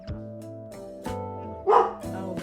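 A dog barks at someone outside the house: a few loud, nearby woofs, spaced roughly half a second apart, with a sharper yelping bark near the end.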